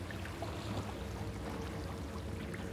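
Steady, dense rushing of a waterfall in the video game Hogwarts Legacy, a constant broadband roar with no pauses and no talking.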